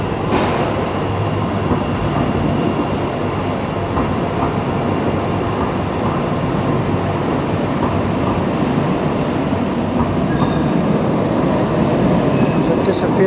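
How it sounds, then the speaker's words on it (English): A Tyne & Wear Metro Class 599 train departs St James's station into the tunnel, a loud, continuous rumble of wheels and motors with faint squeals, close and sustained throughout. "the last ever Class 5-9 Metro service from St James's Metro."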